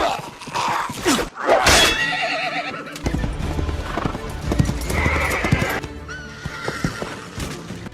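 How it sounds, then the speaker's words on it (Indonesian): Horse hooves clip-clopping at a steady pace in a scene from the film Gladiator, with a horse whinnying loudly near the start and a music score running underneath throughout. "setelah itu Maximus pun pergi dengan kuda menuju rumahnya"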